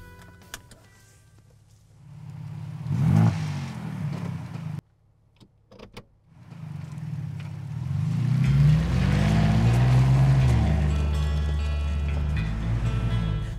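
A Ford Bronco Raptor first gives a quiet electric whir and a few clicks. After a short silence, its engine rumbles in deep and loud, holding a strong low drone up close.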